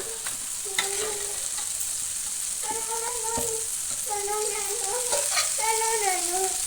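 Mutton frying in a hot pan as it is stirred for a mutton fry, a continuous loud sizzle throughout, with a voice speaking intermittently over it.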